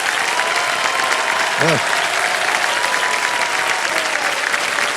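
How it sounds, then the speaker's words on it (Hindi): Studio audience applause on a TV quiz show, loud continuous clapping throughout, with a brief spoken word from a voice partway through. "जब तक ये ताली बजती रहेगी हम तब तक लगे रहेंगे इसे"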